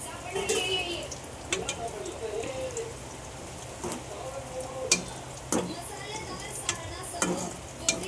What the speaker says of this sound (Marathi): मस्तपैकी आपण गोल्डन होईपर्यंत फ्राय करून घेऊ.